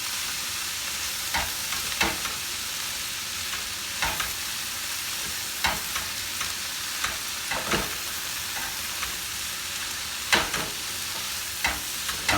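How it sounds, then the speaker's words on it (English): Sliced jalapeno and cabbage sizzle steadily in a hot pan while a utensil stirs them, with irregular scraping knocks against the pan over a constant frying hiss; no talking. "I'm gonna end up putting all the sliced 1 jalapeno which is there. I'm just gonna move it around a little bit."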